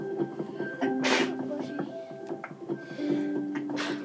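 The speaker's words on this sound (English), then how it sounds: "He sneezed like 3 times in a row" A person sneezes in a quick burst of about three sneezes in a row, heard close up over faint game background sounds, with no talking.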